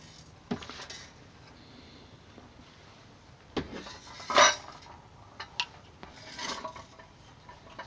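Loose metal pieces clatter and rattle inside a Lexmoto 125 Chieftain motorcycle exhaust silencer in a few short bursts, close by, with quiet pauses between the shakes.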